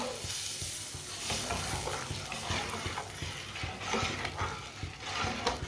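Sugar being stirred into egg and semolina halwa in a pan, continuous gentle sizzle with repeated soft scraping and mixing strokes, close and moderate in level.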